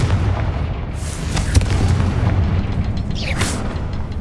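A Confringo blasting spell explodes in Hogwarts Legacy, a loud, close boom with a sharp crack midway, set against a steady rumbling game backdrop.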